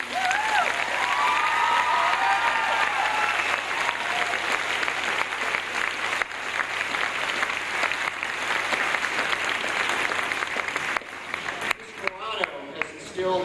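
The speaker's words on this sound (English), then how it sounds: "And I think another round of applause." Sustained audience applause at a 2006 high school graduation ceremony, honoring retiring teachers, steady and dense for about eleven seconds before thinning into a few scattered claps, with faint crowd murmur underneath.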